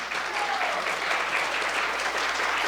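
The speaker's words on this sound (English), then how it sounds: "ladies, please give them a round of applause" Audience applause at a women in data science conference, honoring the men who have stood up; steady, dense clapping from a full room, fairly loud and continuous throughout.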